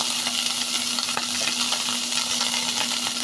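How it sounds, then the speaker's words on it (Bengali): Green chillies frying with a pinch of turmeric in a little oil, a close, continuous crackling sizzle over a short stretch with a faint steady hum underneath. "কাঁচা মরিচগুলো দিয়ে একটুখানি হলুদ দিয়ে ভেজে নেব"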